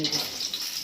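Potatoes with turmeric and a little salt frying in oil in a wok, giving a steady close sizzle for under a second.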